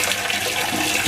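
A plastic jug that held lye water is rinsed under running water, a loud, steady rushing gush filling the whole moment, close up and with no talk.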